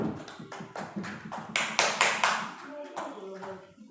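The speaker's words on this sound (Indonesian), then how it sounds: "Tepuk tangan dulu Ibu." A small group claps at an Indonesian teachers' presentation session, a run of quick, uneven clapping bursts with a voice talking over part of it.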